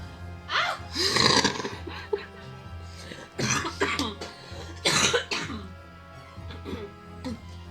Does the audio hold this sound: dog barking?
no